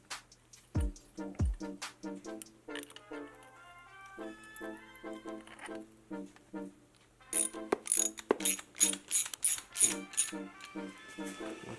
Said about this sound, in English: I'm going to take it on a ratchet. I wouldn't use an impact.